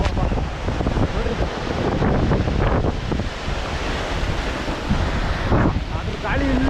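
Strong wind gusts at Hebbe Waterfalls roar against the microphone in a continuous loud rush, with a rumbling water-like wash underneath and faint voices in the background.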